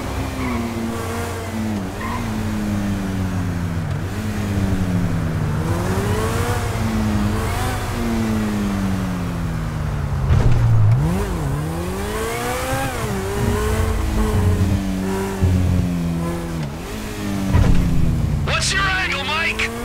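Cars racing in GTA V: engines rev up and down in rising and falling whines, with a few sharp tire-squealing skids, while voices talk over the continuous loud racing.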